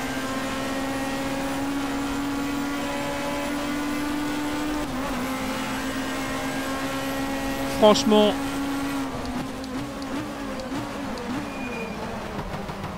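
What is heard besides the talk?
touring car engine in video game GTR2 Touring Car World mod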